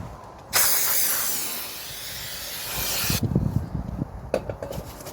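A steady, loud hiss of aerosol brake cleaner spraying onto a 1967 Triumph Spitfire MK3's brakes runs for several seconds, then stops, followed by rubbing and wiping noises.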